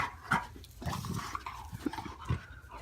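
A dog reacting aggressively to a fidget spinner, with several short barks and growly bursts spread across a few seconds, close and moderately loud over some rustling.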